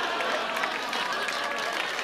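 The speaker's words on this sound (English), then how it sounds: "let's give him a nice big round of applause" An audience applauds a comedy magician after a card trick, a dense, steady round of clapping that holds at an even volume, with a few voices mixed in.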